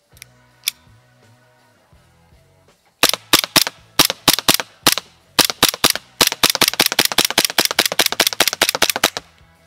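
A G&G GPM92 gas airsoft pistol fires BBs with close, sharp snapping shots, a few spaced out at first and then a long, fast string of shots.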